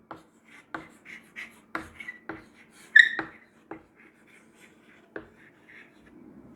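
Chalk or marker strokes on a board, a series of short scratchy taps and squeaks in an irregular rhythm, close and fairly quiet, with one sharper squeak midway.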